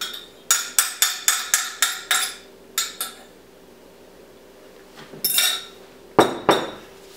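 A metal whisk beats a tempered egg mixture in a pot on the stove for a pumpkin trifle. Close, bright clinks come in an even run of quick strokes, then a pause and a few louder scattered strikes.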